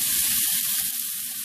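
Thin-sliced steak for a cheesesteak sizzles and fries in a hot pan, a steady crackling hiss with soft popping throughout, close and alone without voices.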